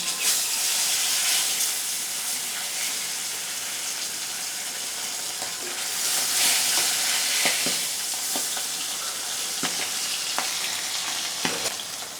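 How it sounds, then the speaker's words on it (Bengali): Pieces of tilapia fish fry in hot salted oil in a wok, a continuous bright sizzle and hiss with occasional pops and stirring scrapes, steady and close throughout, without speech. "তেল গরম হয়ে গেছে এবার মাছগুলো আমি দিয়ে দিলাম"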